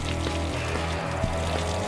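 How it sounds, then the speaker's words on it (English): Water runs freely out of the side holes of an outboard motor leg while it is flushed on muffs, a steady close splashing pour that continues unbroken. "you can see water freely running out of these holes in the side of the leg"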